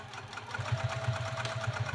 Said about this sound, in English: I like to backstitch wherever my card slots meet my body panel because those are going to be high stress areas